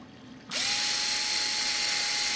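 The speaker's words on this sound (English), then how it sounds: "be sure it's centered when you're drilling them in there" Half a second of quiet, then a power drill whirs up abruptly and keeps spinning at a steady high whine, drilling into wood of a model airplane wing, loud and close.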